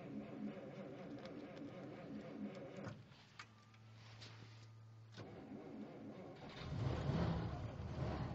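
A 1955 Plymouth engine cranks and catches with a brief starter whirr, then settles into a steady, moderately loud idle that swells slightly toward the end.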